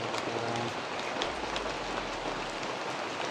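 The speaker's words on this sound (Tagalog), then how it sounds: "Kasi yung ulan." Rain pours down steadily, a dense hiss of drops on surfaces, with a low rumble underneath.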